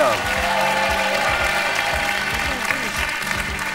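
Studio audience applause for two young game show contestants on a French TV programme, a steady broadband wash of clapping with a voice and music running underneath.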